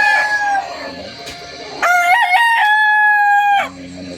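Yellow Legged Hatch gamefowl rooster crowing nearby on a farm, one loud drawn-out cock-a-doodle-doo with wavering pitch, preceded by a softer partial call, clear and close.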